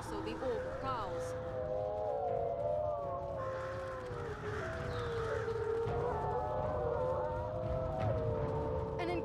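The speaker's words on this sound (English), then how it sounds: "The warg that one hears is worse than the orc that one fears." Wargs in the Lord of the Rings: War in the North video game, set in Mirkwood, letting out long, wavering overlapping howls over a dense, steady background rumble, moderately distant, continuing throughout.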